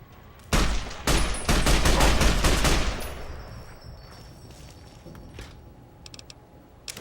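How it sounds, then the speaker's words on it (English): Fallout game firing with an anti-materiel rifle and a Gauss rifle: a quick series of heavy, booming shots over about two and a half seconds, then a long fading reverberant tail with faint clinks afterward. "I've got an anti-materiel rifle and a Gauss rifle."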